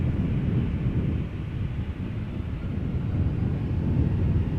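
A KLM Boeing 737-800 jet at Amsterdam Schiphol Airport, a broad steady roar of jet engines with wind rumble, heard from a distance outdoors.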